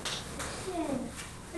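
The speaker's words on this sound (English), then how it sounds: "Give yourselves a round of applause" Schoolchildren in a classroom clapping for themselves, a light, scattered patter of small hands under faint children's voices, fairly quiet and uneven.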